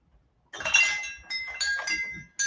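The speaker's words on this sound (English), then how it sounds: "it's a wind chime and it's solar powered" A solar-powered wind chime clinks in a few bright, ringing bursts, close and fairly loud, separated by short pauses, with no talking over it.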